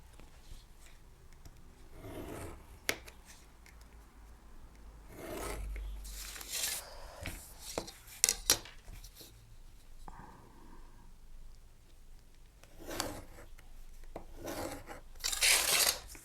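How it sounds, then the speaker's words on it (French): Quiet, scattered scraping and rubbing strokes as fold lines are scored along paper for a scrapbook page, with short sharp scratches and pauses between them, close and faint. "le long des deux traits de la partie centrale, il va falloir marquer les plis"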